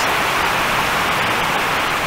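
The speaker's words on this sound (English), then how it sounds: "You'll have to excuse the noise of the rain." Heavy, tropical-style downpour on a warm day, a dense steady hiss of rain pouring down continuously and loudly with no other sounds over it.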